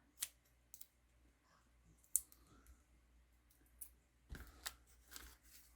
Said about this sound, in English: Let me grab my little scissors.